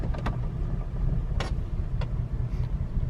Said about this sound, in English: She's sputtering real bad.